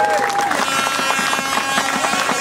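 Audience at a Christmas event in Raalte applauding, a steady, dense patter of many hands clapping at moderate distance, continuous for a couple of seconds with a faint tone underneath.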